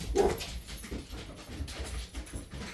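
Dogs barking and whimpering indoors, a louder yelp early on followed by softer intermittent whines and low barks throughout.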